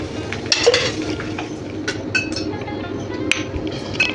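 Oil heating in a kadhai while making a chickpea usal, with a light sizzle under clinks and scrapes of a utensil against the pan, close and continuous.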